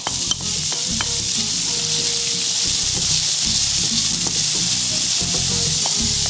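Chopped onion tossed into a pan of frying garlic for pig's trotters with turnips, a loud, close, continuous sizzle with repeated stirring clatter throughout.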